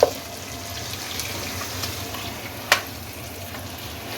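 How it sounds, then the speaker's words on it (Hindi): Salted chicken pieces frying in a pan, a steady moderate hiss with a few sharp utensil clinks, nearby and without speech. "और अब इसको फ्राई कर लें।"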